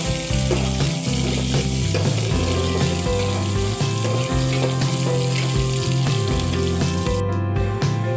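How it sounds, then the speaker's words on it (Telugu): Curry leaves and onions fry with mustard seeds and dried red chillies in a hot pan, giving a loud, continuous sizzle that never lets up. No voices. "కరివేపాకు, ఎర్రగడ్డలు కొంచెం వేగినాక మళ్ళీ అవన్నీ వేసుకోవాలి."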